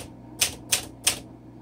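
Three crisp, evenly spaced key strikes on a 1951 Smith Corona Silent vintage manual typewriter, close and clear in a quiet room.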